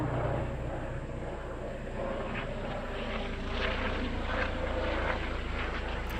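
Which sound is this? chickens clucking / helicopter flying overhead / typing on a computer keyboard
helicopter flying overhead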